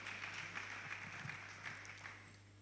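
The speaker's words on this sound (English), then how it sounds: "clap now, clap." Faint, steady audience clapping continues at a distance, a soft even patter over a low constant hum.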